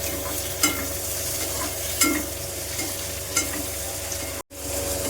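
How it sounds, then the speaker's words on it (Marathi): Tomatoes and green chillies roast in a pan with garlic cloves, a steady close sizzle broken by periodic stirring scrapes and a brief dropout near the end. "टोमॅटो टाकते आणि हिरव्या मिरच्या मस्त भाजून घेते"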